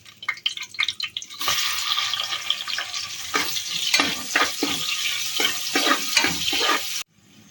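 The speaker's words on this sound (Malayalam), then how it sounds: "നമ്മൾ അരിഞ്ഞു വെച്ച സവാള ചേർത്ത് കൊടുക്കാം" Chopped onions tossed into a hot pan of whole spices for chicken biryani sizzle loudly and steadily, with clattering stirring strokes throughout before the sound cuts off near the end.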